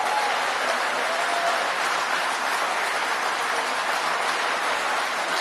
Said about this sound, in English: Big round of applause for this brave young man standing up.